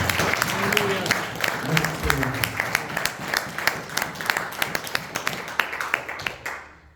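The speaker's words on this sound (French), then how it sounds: "Est-ce qu'on peut acclamer le Seigneur?" A church congregation applauds and cheers for the Lord, steady clapping filling the room with raised voices mixed in, then fading out near the end.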